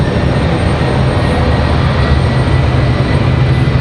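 A WestJet airliner departs Raleigh-Durham airport bound for Calgary, its engines a steady, loud broadband roar that holds level throughout with a deep low rumble underneath.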